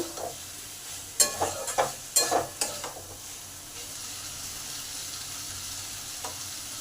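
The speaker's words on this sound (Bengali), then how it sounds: "এবার পটলগুলো দিয়ে দিলাম এই মশলার সঙ্গে ভালো করে কষে নেব" Pointed gourd (potol) stir-fried in spice masala: a cluster of close spatula scrapes and stirs over a sizzling pan, then a quieter steady sizzle continues alone.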